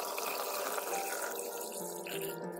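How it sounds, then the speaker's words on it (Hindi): Water pours into a DIY aquarium tank with a homemade sponge filter, a continuous gushing stream with bright splashing, fairly quiet and steady, no voices. "अभी टैंक में पानी डालने का टाइम है,"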